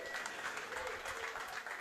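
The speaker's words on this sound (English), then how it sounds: "give him a big round of applause" Applause from a crowd gathered at a Houston football supporters' event, steady and moderately distant, with some voices mixed in, lasting about two seconds.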